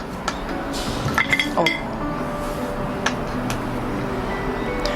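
Ceramic dishes clink and tap together a few times, sharp little knocks scattered over a low background hum.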